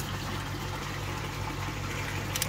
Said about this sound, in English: open that a bit more, and get water flowing through there a bit more